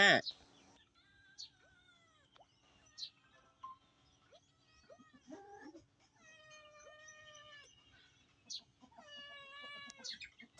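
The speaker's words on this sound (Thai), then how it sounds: "แมว" A cat meows repeatedly in a game session, a series of falling, drawn-out mews spread across the stretch, fairly close and clear against quiet background.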